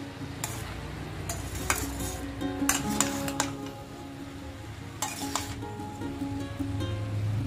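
Cooked rice being stirred into mushroom and vegetables in a pan for restaurant-style mushroom fried rice, with repeated clinks and scrapes of a utensil against the pan over a low steady sizzle, no talking.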